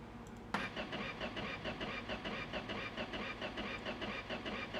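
Car engine cranking over and over with a steady rhythmic churn after a sharp click, trying to start but not catching, loud and continuous with no voices.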